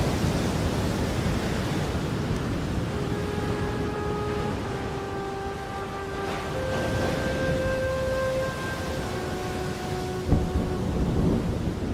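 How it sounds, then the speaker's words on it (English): Tropical cyclone over Christmas Island: a constant heavy roar of rain and wind with low rumbling thunder throughout and a sharper crack near the end, while sustained musical tones hum underneath. "Christmas Island has caught the edge of a full-blown tropical cyclone."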